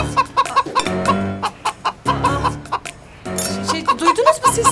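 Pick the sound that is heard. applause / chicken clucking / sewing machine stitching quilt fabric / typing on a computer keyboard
chicken clucking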